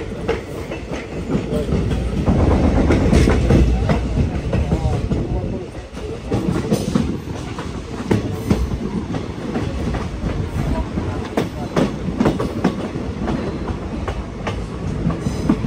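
The Agartala Express passenger train runs from Silchar toward Agartala, its wheels clattering rhythmically over rail joints in a loud, continuous rumble heard from on board.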